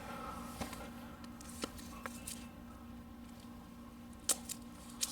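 A Jääkäripuukko 140 knife works through wood in a few sharp, faint cuts and cracks, spaced irregularly over a quiet background hiss, with the clearest snaps near the end.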